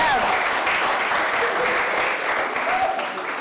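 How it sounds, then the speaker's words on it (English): Sustained applause from a debate audience greeting the winning opposition team at a university campus debate, dense and steady throughout, with some voices and cheers mixed into the clapping. "Let's give a round of applause for"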